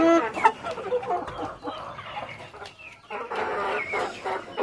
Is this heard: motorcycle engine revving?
no